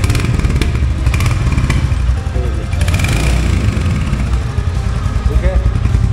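A modified 2023 Royal Enfield Hunter 350 motorcycle engine runs steadily up close, a deep, full low rumble throughout, with someone talking over it.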